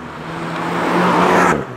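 The engine of a Renault Megane RS Trophy, fitted with a limited-slip differential, accelerates hard out of a corner, a loud close roar rising steadily before it cuts off abruptly near the end.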